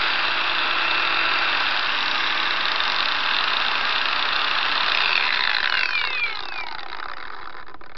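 A WOSAI J6 cordless angle grinder runs at high speed, a steady, close, high-pitched whine that holds constant and then dips slightly in pitch and volume near the end.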